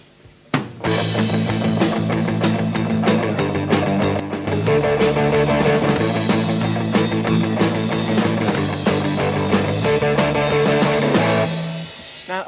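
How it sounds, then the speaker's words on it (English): A rock band chugs through a steady run of even, driving eighth notes, drums and distorted guitars locked tightly together, loud and continuous before ending. "what you should try is getting the whole band to play 8th notes"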